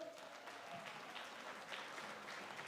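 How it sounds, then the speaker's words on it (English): An audience applauds at an event, a dense and steady clapping that holds evenly at moderate distance throughout. "Let's give a big round of applause again for Madam Rose."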